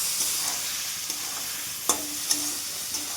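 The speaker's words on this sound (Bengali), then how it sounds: "মশলাটা মাখতে হবে।" Wet spice paste for Bengali potol dalna being mixed in a pan, giving soft continuous stirring and faint sizzling with a few small scraping clicks, close and steady with no talking.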